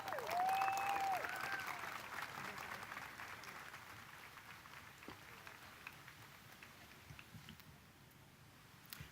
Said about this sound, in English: Could we give another round of applause to Councilwoman Lena Gonzalez?